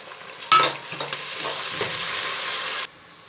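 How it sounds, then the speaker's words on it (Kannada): Fenugreek leaves frying in hot oil for a soya vegetable pulav, a loud close sizzle that bursts in as the leaves hit the pan, then steady hissing with stirring scrapes before cutting off. "ಇದನ್ನು ಚೆನ್ನಾಗಿ ಎಣ್ಣೆಯಲ್ಲಿ ಫ್ರೈ ಮಾಡಬೇಕು."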